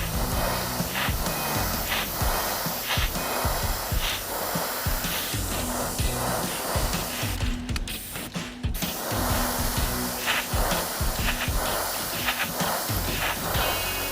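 Acrylic paint sprayed onto a panel in repeated short bursts, a close hissing spray that pulses on and off with a brief gap midway.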